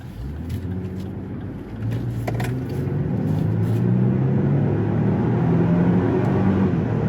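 Engine of a 2024 Lexus GX550 Premium SUV revving up during a test drive, a low rumble that rises steadily in pitch and loudness as it climbs toward 6,000 RPM, heard from inside the cabin.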